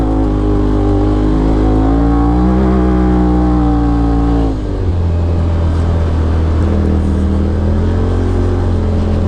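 Polaris RZR XP Turbo engine revving steadily, then climbing in pitch until an abrupt drop near the middle as it shifts into high gear, followed by a deeper, steady drone. The engine sits loud and close throughout with no voices.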